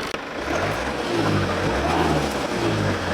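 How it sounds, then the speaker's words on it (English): A car engine runs steadily and close by with a low, continuous hum, on a used car being inspected for resale, with no talk over it. "Sound of the engine sounds nice."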